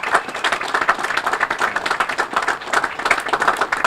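Steady crowd applause for Jim Vankoski at an outdoor statue unveiling for Emlen Tunnell in Radnor Township, dense and continuous clapping from many hands for about four seconds with no talking over it.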